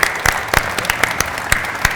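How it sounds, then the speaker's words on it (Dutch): Scattered claps ring out for cyclist Tom Dumoulin, a handful of separate sharp hand claps in a loose, uneven rhythm across two seconds. "Applaus even voor Tom"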